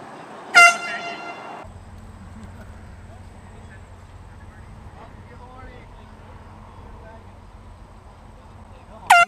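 An air horn blasts loudly at golfers on a course, a short burst near the start and another at the very end, with quiet background noise between.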